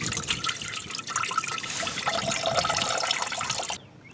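Engine coolant drains from a disconnected pipe on a 1998 Chevrolet Cavalier 2.4 into a bucket, a steady, close splashing trickle of liquid that cuts off abruptly near the end.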